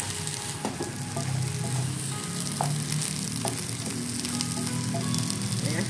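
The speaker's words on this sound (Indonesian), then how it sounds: "Tumis sampai lemes ya." Mustard greens and a chopped egg omelette sauté in a hot pan in a home kitchen, a continuous close sizzle broken by occasional clinks and stirring scrapes, with no talking.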